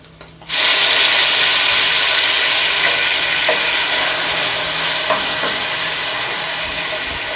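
Tomato paste hitting a hot pan of mash daal, bursting into a loud, close sizzle that holds steady and slowly eases off, with a couple of faint clinks partway through.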